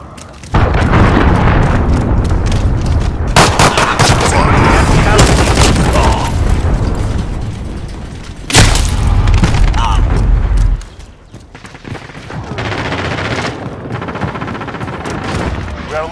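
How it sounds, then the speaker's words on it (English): Heavy explosions and bursts of gunfire from a cruise missile strike in the video game Call of Duty: Modern Warfare, loud and sustained with two sharp blasts, then a quieter stretch of battle noise. "Allied cruise missile launched."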